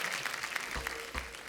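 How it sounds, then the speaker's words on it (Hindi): Studio audience applauding guests on a Hindi comedy talk show, a steady dense wash of clapping throughout with a couple of low thumps, no speech. "एक बार जोरदार तालियां हो जाएं हमारे मेहमानों के लिए"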